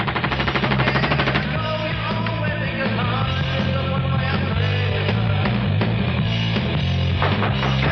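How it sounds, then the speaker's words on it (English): An MP5 submachine gun fires short deliberate three-round bursts, loud and close, with rapid clattering shots repeating one after another. "Watch these deliberate 3-round bursts."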